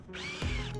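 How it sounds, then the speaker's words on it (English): A power drill boring screw holes for a boat trim tab bracket on the transom, a brief whining spin-up with a shift in pitch midway, close and alone. "then drill out the screw holes, as well as drill out a hole that we will feed the wire through to the other side"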